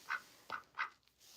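Three or four short nasal quacks from a pet duck in a home setting, spaced unevenly and fairly close, with no talking over them.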